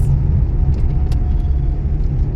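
A car driving along College Road gives a steady, close low rumble of engine and road noise that holds at an even level throughout, with no talking.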